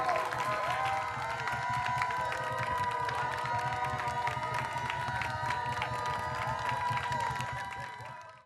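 Studio audience at a Rhode Island high school quiz show, Mount St Charles versus LaSalle, applauding and cheering both teams; steady, dense clapping and crowd noise sustained throughout before tapering off at the very end.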